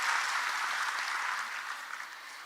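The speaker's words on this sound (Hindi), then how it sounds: "तालियों से स्वागत करेंगे कुमारी श्रद्धा गोमे जी का।" An audience applauds to welcome a successful UPSC candidate at an event in Bhopal, producing a steady, dense wash of clapping that fades slightly toward the end.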